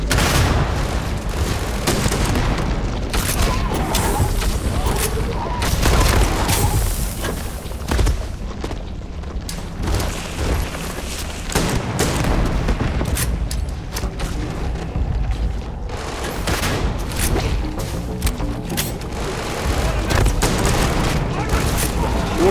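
Sustained gunfire in the space game Starfield, bursts of shots and booms running almost nonstop under loud combat effects, with a voice shouting over the fighting.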